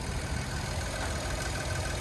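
A steady low idle from a 1.5-liter turbocharged three-cylinder engine in a 2026 Nissan Rogue rumbles close by, even and continuous with no voices.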